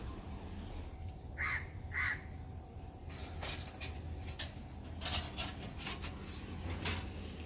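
A crow caws twice in quick succession, fairly clear against a quiet outdoor background, followed by scattered light ticking and tapping sounds.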